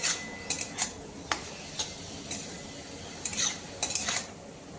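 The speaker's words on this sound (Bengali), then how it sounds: "কপি কিন্তু খুব সুন্দর করে বারবার করে নেড়ে দিতে হবে।" Cabbage being stirred in a pan for a Bengali cabbage ghonto, with a series of light scraping and clinking utensil strokes against the pan at uneven intervals over a soft background hiss.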